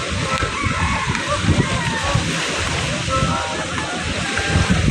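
Big waves slosh and splash against large fishing boats along the boulevard of Manila Bay, with churning water throughout and irregular surges and slaps close by.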